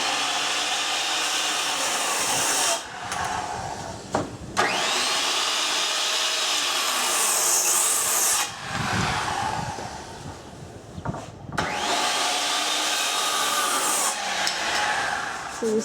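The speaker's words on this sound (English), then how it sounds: "So you sand the corners, soften them a bit." Power sander rounding over the corners of a rustic wooden table, a loud whining hum in long passes broken by brief stops and pitch dips as it presses against the wood.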